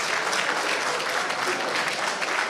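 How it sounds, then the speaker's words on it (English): Steady, dense applause from an audience clapping for the Nigerian president at a public event fills the whole stretch, loud and continuous with faint voices mixed in. "Let's put our hands together for Mr. President."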